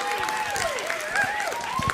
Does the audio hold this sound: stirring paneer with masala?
no